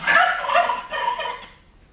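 A turkey gobbles in two quick, rattling bursts, close and fairly loud, before the call trails off into quiet.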